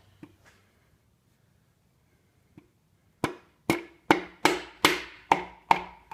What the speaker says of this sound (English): I'm going to double up the hammers here.